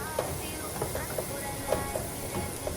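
Onions and mushrooms sizzling in a pan while being sautéed, a steady hissing fry throughout with faint pops and clicks scattered over it, and someone talking quietly in the background.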